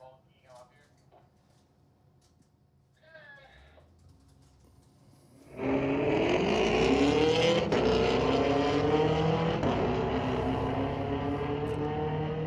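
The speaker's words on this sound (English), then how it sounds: "Chase Cranmore's little Camaro's got a nice sound to it." A Chevrolet Camaro drag racing at Mission Raceway during a Friday night street legal event starts with a quiet lead-in, then a loud engine roar surges in and holds steady, rising in pitch as it launches down the strip.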